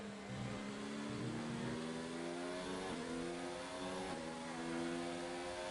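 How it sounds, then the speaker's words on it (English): Formula 1 engines, a Ferrari and a Williams running a Mercedes power unit, scream through a racing video game at the Canadian Grand Prix, their high revving pitch rising and dropping with gear shifts, layered and continuous with no talk. "let's listen to difference between the Ferrari engine and the Williams engine"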